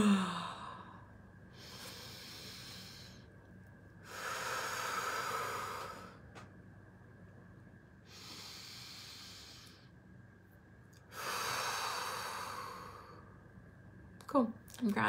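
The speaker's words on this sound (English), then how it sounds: "so I'm just going to breathe into that." Slow, deep breaths drawn in and let out through a tight throat, four long airy exhalations spaced a few seconds apart, close and soft, with a brief vocal sound at the end.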